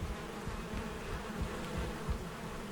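Bees in the video game Valheim buzz in a continuous low drone, close and steady, with a faint rising and falling hum and no voices over it.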